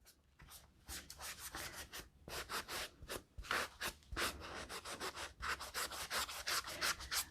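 A brush or cloth with shoe cleaner scrubs a shoe in quick, uneven back-and-forth strokes, a close, soft, raspy rubbing that comes in bursts with brief pauses.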